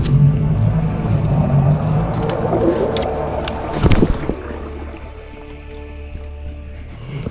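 A small fishing boat's troublesome outboard motor runs on a forest lake with a loud, steady low drone and some water splashing, then turns quieter and smoother partway through.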